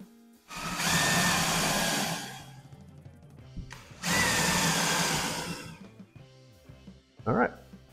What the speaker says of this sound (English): So Forstner bit having a nice pointed edge to really allow you to get exactly where you want for accuracy